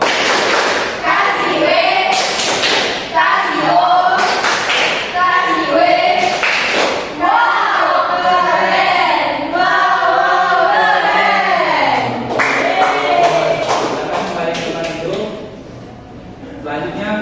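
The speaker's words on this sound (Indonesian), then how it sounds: "Kasih tepuk tangan dulu." Children in a classroom clap in rhythmic bursts of applause, a teacher's voice and children's voices mixed in, loud and close throughout.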